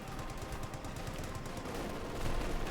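Light machine guns firing in Company of Heroes 2, a dense continuous rattle of rapid bursts at moderate distance, steady throughout and growing slightly louder toward the end.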